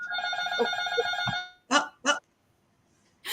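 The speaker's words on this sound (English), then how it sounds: "That's the buzzer." A harsh electronic buzzer sounds for over a second and cuts off, followed by a few short, loud bursts of noise.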